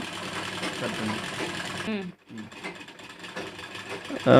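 A sewing machine stitches fabric in a tailoring lesson, running in a fast, steady mechanical whir at close range, pausing briefly before starting up again, with a voice talking over it.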